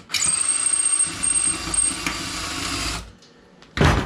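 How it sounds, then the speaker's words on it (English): A drill bores out a rivet head on a 1963 Schwinn Traveler bicycle fender, a close, steady high-pitched whine for about three seconds, then a brief quiet and a sharp loud burst at the end. "we drilled the head of the rivet off"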